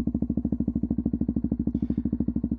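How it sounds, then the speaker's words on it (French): A motorcycle engine idling just after being started, a close, steady rapid pulse of low thumping firing beats, even and uninterrupted throughout. "Ça démarre la moto."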